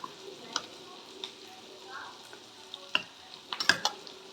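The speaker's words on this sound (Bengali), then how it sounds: "বেগুনগুলো এইভাবে আমি মেখে নেব, হাতা দিয়ে ম্যাশ করে নেব।" Fried eggplant is mashed with a ladle in a pan, producing soft scraping and intermittent metallic taps and clicks, quiet overall with a cluster of sharper knocks near the end and a faint low sizzle beneath.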